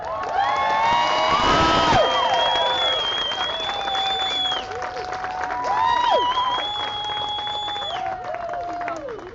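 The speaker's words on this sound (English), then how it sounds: "Let's give a round of applause to our class of 2022." A crowd at a school graduation ceremony applauds and cheers the class of 2022, with whoops and high shouts rising over dense clapping, loudest near the start and again midway.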